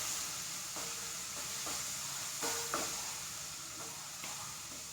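Grated coconut stirred in a hot pan for mango ada, soft sizzling with a spoon scraping the pan in a few distinct strokes, close and steady, with no talking.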